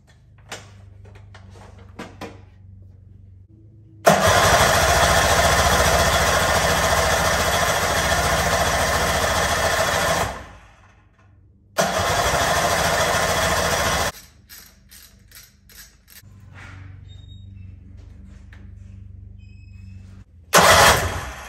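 Small boat motor on a tiny river boat, primed with gas in the carburetor: it roars into a loud, close run for about six seconds, cuts out, briefly fires again, then sputters amid quieter handling noises.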